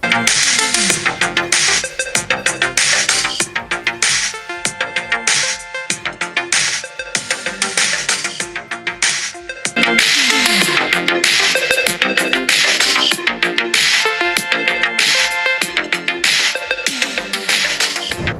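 Smartphone speakers, from an ROG Phone 8 Pro and a Red Magic 9 Pro, play loud, dense game music and effects continuously, bright and full with no talking.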